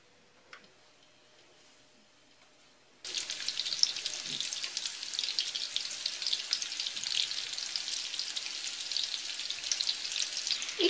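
Fish meatballs dropped into hot oil in a pan, starting near silence with a faint tick, then bursting into a dense, steady sizzle and crackle that continues loud and unbroken.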